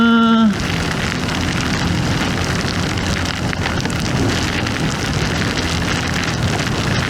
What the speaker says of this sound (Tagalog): Inulan na, inulan na.